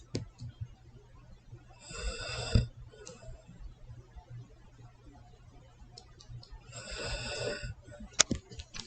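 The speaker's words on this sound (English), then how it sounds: "My dog is starting to snore." A sleeping dog snores in two slow, raspy breaths spaced several seconds apart, fairly faint and close by in a quiet room.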